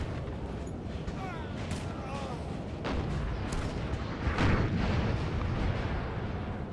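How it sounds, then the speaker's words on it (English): Distant and mid-range artillery fire in the Napoleonic strategy game Napoleon: Total War, scattered booms and crackling volleys over a constant battle din, with a voice talking over it at times. "Just artillery strikes here and there."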